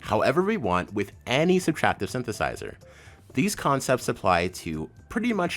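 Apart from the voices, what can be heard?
No distinct noise like a dog, phone or traffic.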